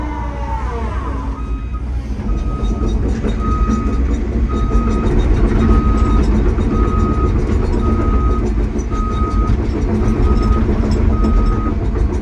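A 2024 Cat 317GC excavator with a small engine hums loudly and continuously as it lifts its boom and swings, while a steady alarm beeps in even pulses above the machine noise.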